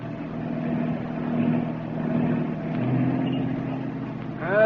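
Car engine humming steadily while driving through heavy city traffic, a muffled, close, continuous drone with gentle swells in loudness.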